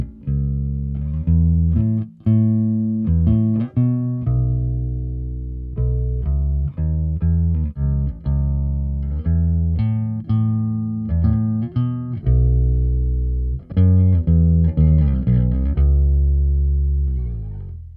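Electric bass through an 8x10 and a 4x10 cabinet plays a punchy riff of plucked notes and sustained low tones, loud and close, with brief pauses between phrases.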